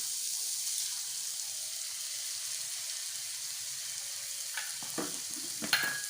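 Steady soft sizzling of two eggs frying in a pan for egg bhurji, with a few brief scraping clicks near the end.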